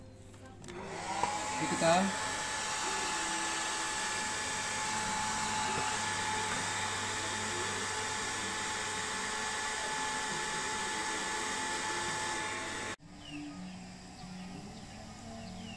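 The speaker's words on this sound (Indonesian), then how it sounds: "Kemudian kita menggunakan kipas angin atau bisa menggunakan hair dryer, yang penting bisa ada udara yang masuk." A hair dryer blows air into a homemade CO2 gas filter prototype, making a loud, steady whooshing drone that runs for most of the clip, cuts off sharply near the end, and plays under a brief spoken phrase.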